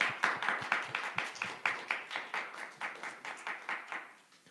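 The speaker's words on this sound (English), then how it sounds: "Let's give a round of applause to our candidates." A small audience claps for student election candidates after a university debate: quiet, sparse, individually distinct hand claps in a loose rhythm that thin out and fade toward the end.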